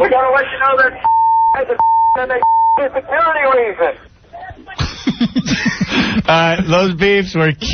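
Censor bleeps on an Opie and Anthony radio show: three steady tones cut in and out over talk in quick succession, with people chatting and laughing around them.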